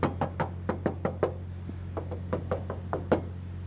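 A series of sharp knocks on a hollow steel body panel of a 1970 Plymouth Fury Sport Suburban wagon, irregular and close, over a steady low hum.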